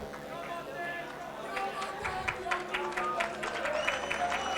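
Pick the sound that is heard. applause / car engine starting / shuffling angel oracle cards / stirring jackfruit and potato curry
applause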